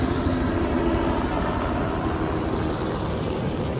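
A helicopter flies very low over a beach, its engine and rotor producing a loud, steady roar that holds close and constant throughout with no talking.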